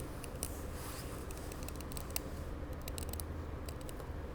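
Scissors snipping through ramie fabric, the Hansan mosi cloth cut into shape for a dreamcatcher kit, come as a faint series of short, crisp clicks and snips over a low steady hum, spaced irregularly.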